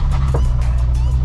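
A Dodge Charger Redeye rolls along on two flat tires, a loud close engine rumble with a steady low drone and faint rhythmic thumping over a brief stretch.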